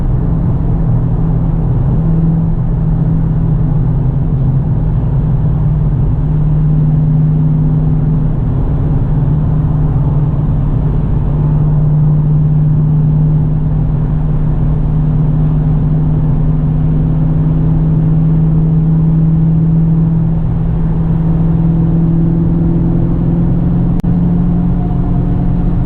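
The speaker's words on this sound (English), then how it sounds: "The car sounds great. I'm real happy with this Flowmaster Super 44." A 2018 Dodge Challenger 6.4 L with a six-speed Tremec and Flowmaster Super 44 exhaust cruising on a highway, a loud, steady low engine drone and rumble heard from inside the car, with slight pitch shifts and no talk.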